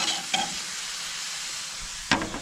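Burger patties and onions sizzling on a grill, a steady close hiss of frying with a couple of brief scraping clacks from a spatula.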